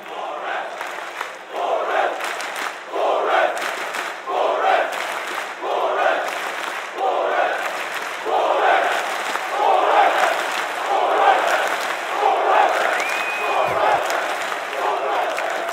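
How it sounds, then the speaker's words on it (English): An esports arena crowd at a CS:GO DreamHack Masters match in Stockholm cheers after a clutch play, a loud, sustained roar that swells in rhythmic chanting waves. "the crowd is on its feet"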